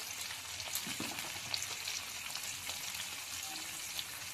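Ground turmeric, coriander and cumin frying in oil with tomato, a soft, even crackling sizzle throughout, fairly quiet, with faint stirring.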